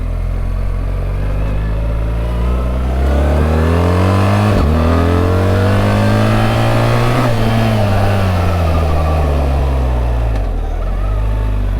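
A BMW R 1300 GS motorcycle in dynamic mode pulls hard, its engine loud and close, climbing in pitch through repeated gear changes with short dips between them, with no talking over it.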